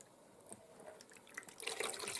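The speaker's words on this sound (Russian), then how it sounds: "наливаю 300 мл воды" Warm water is poured into a bowl in a home kitchen to start a dough. The quiet trickling and splashing builds and grows fuller over about two seconds.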